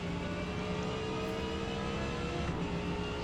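Audi R8 LMS race car in Forza Motorsport on the Daytona Speedway, its engine holding a loud, steady high-pitched drone at full throttle with no clear gear changes, alone without talk.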